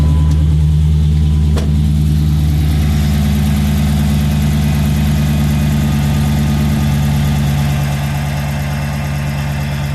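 A Dodge Charger's 5.7L Hemi V8 idles loud and steady right after being restarted, a constant low rumble held with no pauses or revving.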